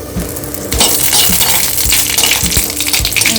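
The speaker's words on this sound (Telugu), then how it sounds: "ఇప్పుడు దీన్ని ఒక బాణి పెట్టుకుని కొంచెం నెయ్యి వేసుకుని ఇప్పుడు మసాలా దినుసులు యాడ్ చేద్దాం" Whole spices dropped into hot ghee in a pan: a series of sharp clinks and ticks land over a loud, continuous sizzle, close by, with no speech.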